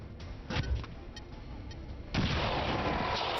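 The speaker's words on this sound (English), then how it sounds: "Almost thinking I just use my grenade." A grenade going off in the video game XCOM 2, a dull blast followed by a louder, broad rumbling burst that holds steady until the end, with no talking.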